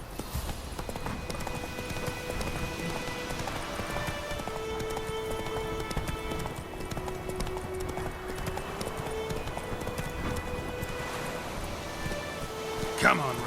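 Roach, the horse in The Witcher 3, gallops in a steady rapid clip-clop of hooves over ground, continuous and fairly close, with faint rustling and game music beneath.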